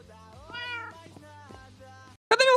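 A Minecraft cat in the video game gives a drawn-out meow followed by shorter mews, then a sharper, higher cry after a brief silence; all are clear and close with no voices over them.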